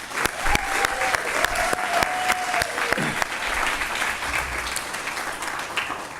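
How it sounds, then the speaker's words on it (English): An audience at a board of education meeting applauds nominees with steady clapping that continues throughout, with a few sharper individual claps standing out. "How about a round of applause for them?"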